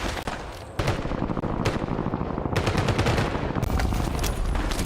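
Rapid bursts of automatic gunfire from a Call of Duty Warzone match at an esports group stage, loud and dense, with sharp shots crackling almost continuously throughout.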